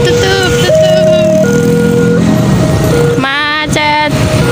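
Cars and motorcycles jammed near a railway crossing by a busy town square make a loud, steady engine rumble close by, cut through by stepped, melodic horn or jingle tones.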